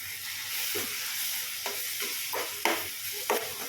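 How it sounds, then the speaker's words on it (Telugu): Salted mango curry frying in a pan, a steady hiss of sizzling with several distinct stirring scrapes spaced through it, close and moderately quiet, no talk. "వేసి ఇప్పుడు అంతా కలిపేసుకోవాలి"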